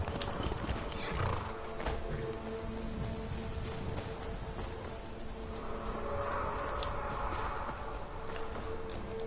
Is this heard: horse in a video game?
yes